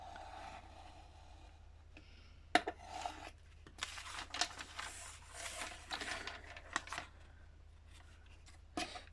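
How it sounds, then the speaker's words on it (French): A worn, dull craft knife slices through paper for an art journal page, giving scattered scratchy cutting strokes with sharp clicks near 2.5 and 9 seconds, close and fairly quiet. "je vais prendre mon cutter qui est ultra abîmé, que j'ai pas eu le temps d'aiguiser encore"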